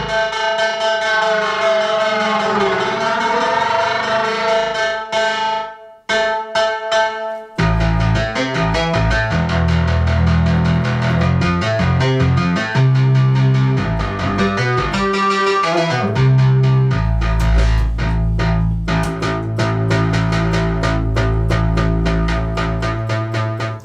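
Kosmo modular synthesizer voice, droning sustained tones with sweeping siren-like pitch, a brief dropout, then a busier pulsing sequence with bright, bell-like harmonics, loud and continuous.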